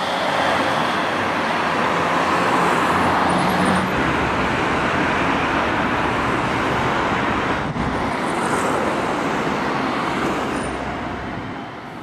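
Steady flowing road traffic at the redesigned Berk junction in Konya, with cars, buses and trucks passing continuously; a loud, dense roar holds throughout with a brief air-brake hiss, fading slightly at the end, no voices.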